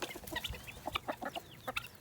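Farm chickens and a rooster clucking nearby, a busy scatter of short clucks and chirps layered over one another, moderately quiet outdoors with no talk.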